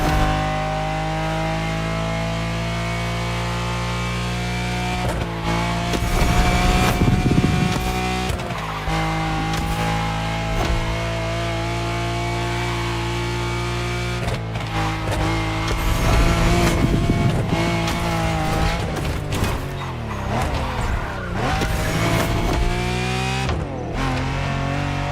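A car in The Crew Motorfest racing game roars continuously with a loud, close engine note, revving up and down through gear changes, with repeated bursts of tire squeal as it skids through corners.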